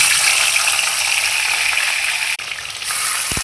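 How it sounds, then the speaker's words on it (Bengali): Katla fish pieces fry in hot oil in a wok with a loud, continuous crackling sizzle that holds steady, briefly dips once, then returns. "তেলটা ভালো করে গরম হয়ে গেলে দিয়ে দেবো মাছ।"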